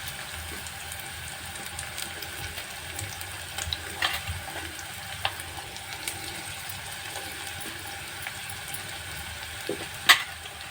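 Onion and green chili fry quietly in oil in a pan, a soft, steady sizzle with occasional light scrapes and clinks of stirring, ending with one sharper tap.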